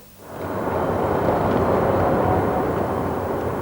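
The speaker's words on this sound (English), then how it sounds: "As the final plane came into land, relocation to the new site began." Last airplane landing at an old airport before closure: a loud, broad jet roar rises quickly after a quiet start and holds steady and close for several seconds.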